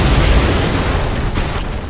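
A grenade detonates in Shadow Complex Remastered, a loud booming explosion with a rumbling tail that fades over about two seconds.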